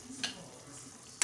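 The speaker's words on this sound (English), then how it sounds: "and I'll stir. All right, boiling beautifully." Pumpkin leaf sauce bubbling in a pot as it is stirred, with a low steady sizzle and two sharp clinks of the spoon against the pot.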